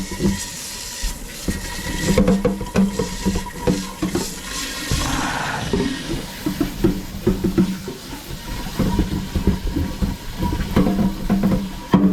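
Water rushes and splashes as a kombucha container is rinsed out, a close, continuous gurgling flow with uneven surges and small knocks against the vessel.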